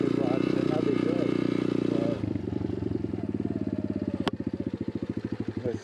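Motorcycle engine rumbling steadily while riding, loud and close, shifting after two seconds to a choppy, pulsing beat as the revs change, with wind buffeting and a voice speaking over it.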